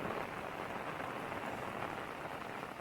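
Steady monsoon rain falls on the green Konkan countryside, a dense, even hiss of drops on surfaces that stays constant and fairly soft throughout, with no voices.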